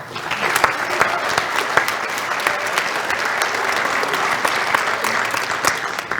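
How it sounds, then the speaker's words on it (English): Sustained applause from a sizable crowd at an induction ceremony, dense and steady throughout with sharp individual claps standing out. "Let's give our elders also a final round of applause."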